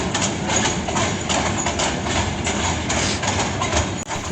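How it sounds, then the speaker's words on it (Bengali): A train passing overhead on a bridge at dusk, a loud continuous rumble with rhythmic clattering beats from the wheels over the rails. "উপর দিয়ে ট্রেন গাড়ি যাচ্ছে"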